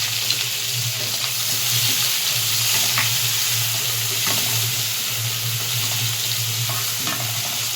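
Onions fry in a generous pour of oil for mutton head curry, a loud, steady, close sizzle running throughout with occasional scrapes of stirring.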